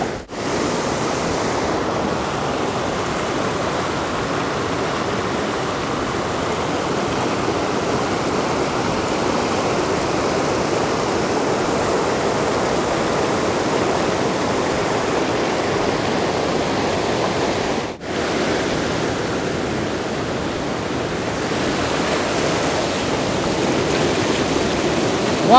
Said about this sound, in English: That is quite the current going downstream.